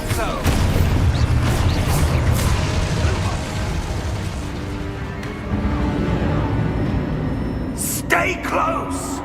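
An Expulso explosion spell in Hogwarts Legacy: a loud boom opens a dense rumble of game combat noise, with a sharper burst near the end, over game voices.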